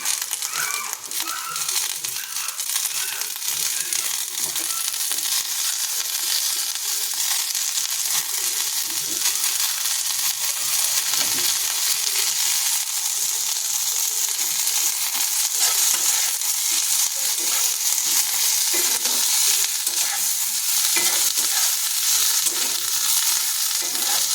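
Continuous crackling sizzle of moringa leaves frying in a hot pan with potatoes, close and loud, with occasional stirring scrapes throughout.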